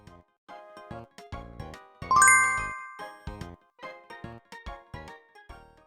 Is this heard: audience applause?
no